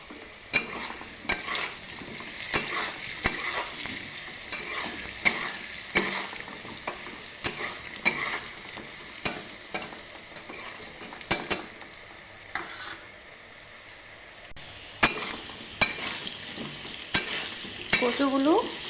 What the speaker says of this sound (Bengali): এখন আমি কচুগুলো ভাজাতে দিয়ে দেব